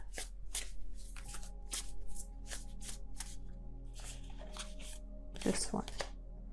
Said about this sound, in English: I don't know what's going on with my shuffling right now.